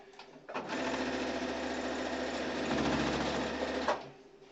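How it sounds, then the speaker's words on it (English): A sewing machine runs in one steady burst of rapid mechanical stitching for about three seconds, starting and stopping abruptly, close and fairly loud, while sewing a fabric face mask. "we can take this over here to the sewing machine"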